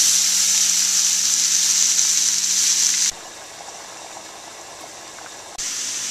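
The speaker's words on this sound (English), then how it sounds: "Now add the sirloin." Sirloin beef hitting a hot pan of onions and garlic on high heat, a loud steady close sizzle that drops sharply to a quieter hiss halfway through, then jumps back up, with no talk.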